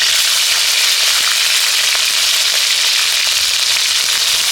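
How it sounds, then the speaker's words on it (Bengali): Shrimp fry in hot mustard oil in a pan, giving a loud, dense, continuous sizzle with fine crackling pops throughout and no voices. "তেলের উপর চিংড়ি মাছগুলো দিয়ে দিচ্ছি"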